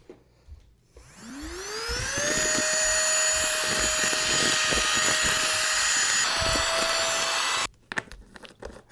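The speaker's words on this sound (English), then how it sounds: "here is our rechargeable sealer. We're just going to put this on and then hold the button." A small rechargeable vacuum sealer pumping air from a storage bag packed with a blanket: the motor spins up within a second into a steady high whine that holds for about six seconds, then cuts off abruptly.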